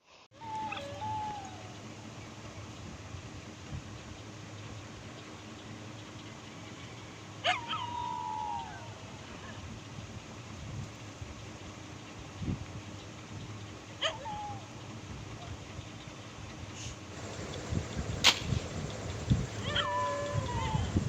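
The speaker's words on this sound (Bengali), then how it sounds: "কুকুরগুলো এত পরিমাণ ডাকছে" Dogs calling out at a rural home: a few separate, fairly distant barks and yelps come at intervals over a steady background hum and hiss, growing busier toward the end.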